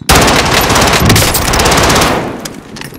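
Loud, sustained machine gun fire in Call of Duty Warzone, a rapid unbroken stream of shots that runs for about two seconds before easing off into scattered fainter bursts.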